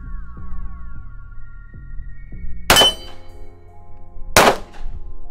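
A Glock 19 pistol fires twice at a range, two loud sharp cracks a couple of seconds apart, close by over a low, steady hum.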